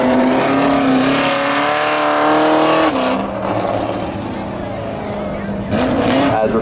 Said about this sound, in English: it's green flag just like that. We got Alexander Olsen, the Pontiac GTO with Joe DeFarias.